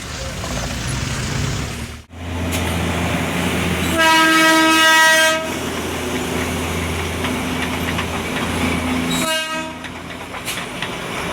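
Train pulling into Darjeeling station, a steady rolling rumble of rail cars with two loud horn blasts, one long and one short, close by and without talk.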